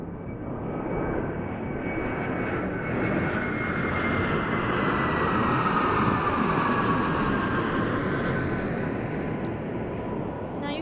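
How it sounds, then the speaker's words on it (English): A jet airliner's Rolls-Royce Trent engines roar steadily and close at Denver International Airport, a broad rumble with a rising whine layered on top, sustained for the full stretch. "I'm pretty sure they're Trent engines, make a pretty good sound"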